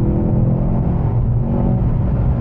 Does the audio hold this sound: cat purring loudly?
no